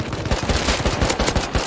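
Rapid gunfire bursts from the video game Rust crackle in quick succession, loud and close, with no speech over them.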